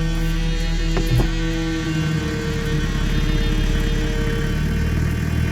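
A car engine runs steadily close by, a constant low hum with a faint rise in pitch and no voices.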